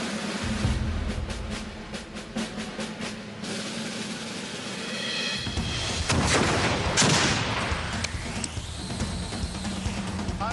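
A medieval gun is fired, giving a loud, close blast, followed by rumbling and crackling noise against a steady background hum. No one speaks.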